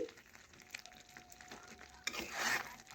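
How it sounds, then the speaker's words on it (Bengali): Tomato chutney is stirred and dried in a pan with a spatula, giving faint, sporadic scraping and soft sizzling that grows into a louder stirring burst near the end. "এইভাবে বেশ কিছুক্ষণ নাড়াচাড়া করে একটু শুকিয়ে নিচ্ছি"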